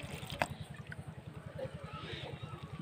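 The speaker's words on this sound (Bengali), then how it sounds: "এবার আমি অল্প অল্প জল দিয়ে বেসনটাকে ফেটিয়ে নেব" Gram flour batter is whisked with a little water in a bowl, a fast, even rhythmic tapping and slapping at close range, faint and steady throughout.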